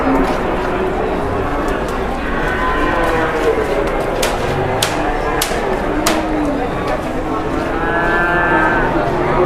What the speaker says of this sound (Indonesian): ini juga sapi-sapi jumbo